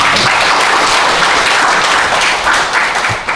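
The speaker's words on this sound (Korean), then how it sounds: "두 분께 큰 박수 부탁드립니다." Sustained applause fills a conference hall at a joint academic symposium held at the National Library of Korea, a dense, steady wash of many hands clapping throughout with no voices on top.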